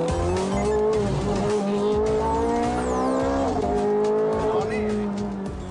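A car laps Ferrari's test track with a loud, close engine drone, rising and falling revs and tire squeal through the corners, while a person talks over the noise.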